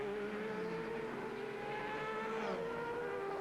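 A 1991 World Sportscar Championship prototype, driven by Derek Warwick on slick tyres around a wet Mexico City circuit, screams past at close range, its loud high engine whine holding steady and then dropping in pitch as it goes by.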